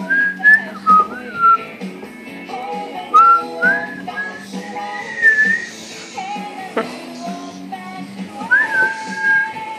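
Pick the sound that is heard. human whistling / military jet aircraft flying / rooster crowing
human whistling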